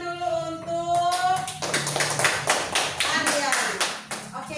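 Classroom clapping, a quick burst of hand claps from students that starts after a brief stretch of a teacher's voice and then continues as a dense, steady patter, with voices mixed in.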